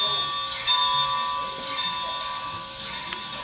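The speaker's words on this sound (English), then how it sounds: "even little details like the bell gets a double clang." A model train locomotive's small clapper bell rings with a double clang, bright sustained tones ringing steadily and fading gently, close and fairly loud with no talking over it.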